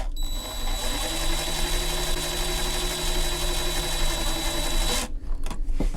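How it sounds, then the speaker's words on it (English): A power tool drives screws to tighten an electrical outlet box against drywall, giving a steady, close whirring drone with tonal hum for about five seconds before stopping, followed by a few faint handling clicks. "Now we just got to turn these screws, and as we turn these screws,"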